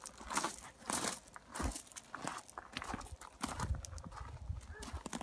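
A horse's hooves clip-clop in an irregular, shifting rhythm as it stands for grooming, with close rustling from handling around it and a few soft snorts.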